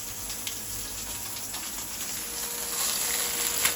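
Chicken steak frying in a pan for breakfast, a steady, close hiss of sizzling fat that holds for a few seconds with no voices.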